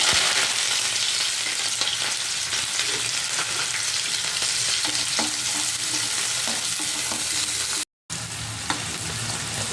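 Onions, green chilies and curry leaves fry steadily in hot oil for a brinjal fry, a dense continuous sizzle with stirring scrapes throughout, briefly cut to silence near the end, no voices.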